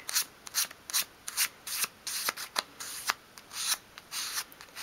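Sandpaper rubs back and forth along the edge of a small wooden sideboard piece for a 1/12 scale dolls house, giving a quick, steady run of close, dry scratchy strokes with no talking.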